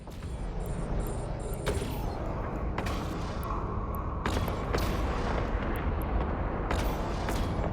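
Cannons fire repeatedly in the space game Eve Online, with a series of sharp booming shots at irregular intervals over a dense, continuous battle rumble.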